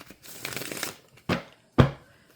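Tarot cards shuffled by hand for a Celtic cross reading: a longer run of soft papery riffling, then two short, sharp shuffle bursts, close and with no talk.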